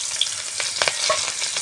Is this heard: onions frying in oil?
yes